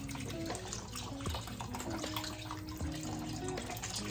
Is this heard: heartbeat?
no